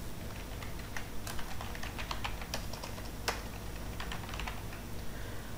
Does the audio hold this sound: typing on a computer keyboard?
yes